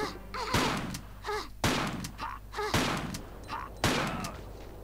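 Four sharp gunshots in the Tomb Raider: The Last Revelation video game, evenly spaced about a second apart, each a loud close crack with a short decay.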